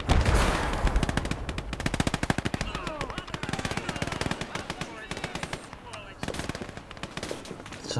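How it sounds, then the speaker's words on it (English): Rapid submachine gun bursts in the WWII game Gates of Hell during a massive urban battle, loud, dense overlapping automatic fire with sharp cracks from several weapons, and faint voices talking underneath. "So I just realised that it's a lot of submachine guns"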